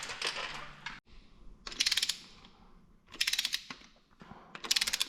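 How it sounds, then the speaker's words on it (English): A hand ratchet torques down injector bolts on a CAT C13 engine, bursts of rapid clicking separated by short pauses, close and fairly quiet with no talking. "Now we can start torquing them in."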